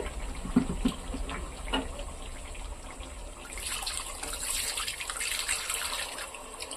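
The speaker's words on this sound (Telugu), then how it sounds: "ఇప్పుడు ఇందులో మనం చింతపండు పులుసు వేసుకుందామండి" Tamarind water pours into a pan while fish curry cooks, a soft splashing, trickling flow with a few small clinks, quiet and close.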